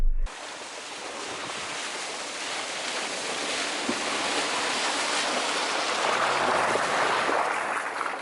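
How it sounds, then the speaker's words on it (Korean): A Jeep Renegade Trailhawk crawls along a wet, muddy road, giving a steady, continuous broadband wash of tire slosh, splashing and engine noise that holds at an even level throughout, with no speech. "노면이 이제 젖어서 살짝 젖은 곳에서 질척질척거리긴 하는데요, 끄덕없이 잘 건너가고 있습니다"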